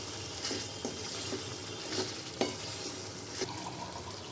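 Sautéed paneer pieces, about a hundred grams, are stirred into sizzling masala bhurji in a pan, a steady frying hiss broken by several scraping stirs and soft clinks.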